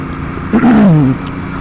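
A Royal Enfield Bear 650 motorcycle ridden uphill through traffic, its engine note rising and falling in a brief, loud swell of revving over a steady background rumble, with no talk.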